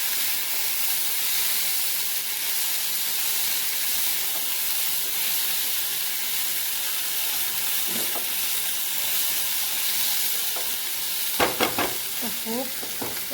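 Chillies fry in a hot pan with a loud, continuous sizzle and hiss. A few scraping stirs come through near the end, close up.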